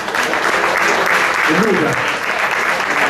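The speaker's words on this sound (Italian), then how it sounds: "un applauso" Audience applause at a tribute concert, loud and continuous clapping from a crowd while someone speaks briefly over it partway through.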